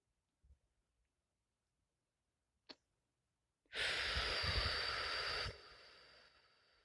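Slow breath let out through the mouth during a breathing exercise, a long steady airy exhale following a couple of faint earlier sounds, close and clear.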